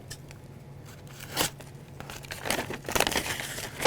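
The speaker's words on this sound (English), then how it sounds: "I never tried to cut an old sticker." A freshly whetstone-sharpened knife slices through an old sticker, giving a dry ripping and crinkling scrape in short bursts that grow denser and louder toward the end.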